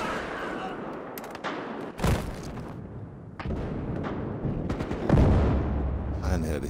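Video game gunfire from Battlefield Hardline: repeated loud shots and bursts in a busy, dense mix, with sharp reports near 2, 3.4 and 5.2 seconds, and a voice talking over the action.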